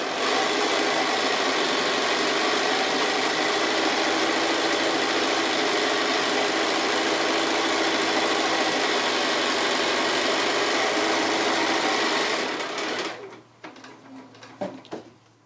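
A sewing machine quilts parallel lines through a cotton-batted fabric tote bag, its motor a loud, continuous, even whir held for about twelve seconds before cutting off into quieter clatter.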